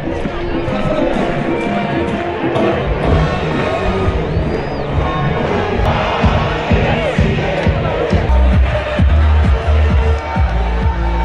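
A huge outdoor crowd at the Zozobra burning in Santa Fe roars and chants, a loud continuous mass of shouting voices and cheers with heavy low rumble throughout.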